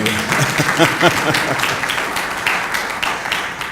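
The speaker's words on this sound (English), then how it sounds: "You can't clap for one and not clap for the other." A public workshop audience for a city transportation plan gives loud, sustained applause, a thick continuous patter of many hands, with a voice briefly audible beneath it.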